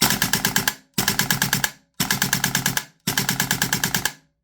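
A Tokyo Marui AKM gas blowback airsoft rifle fitted with a 130% recoil spring fires four loud, close full-auto bursts of rapid clattering shots, each burst lasting under a second and separated by brief silences.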